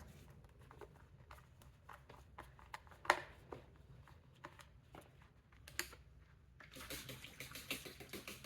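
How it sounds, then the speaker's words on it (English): Dyson V11 vacuum parts are rinsed under running water, with faint, close splashing and trickling plus scattered small clicks and knocks from handling the pieces. The water grows steadier and louder toward the end. "I'm just gonna unscrew all of these, rinse them, put them on this towel over here"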